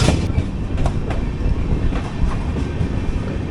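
The Kacheguda Madurai Superfast Express rolls along the rails with a loud, continuous rumble, and wheels click rhythmically over rail joints from a close position on board.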